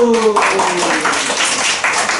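Children at a church children's sermon clap together in a lively burst that carries on steadily, with voices mixed in at the start.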